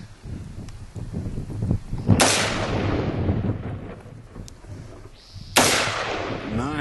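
Two loud, sharp AR-15 rifle shots outdoors, several seconds apart, each ringing out with a long decaying echo over low background rumble.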